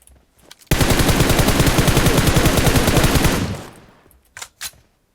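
Automatic gunfire in the PUBG Mobile battle-royale game: one loud, continuous rapid-fire burst lasting about three seconds, followed after a short gap by a couple of separate sharp shots, with no talking.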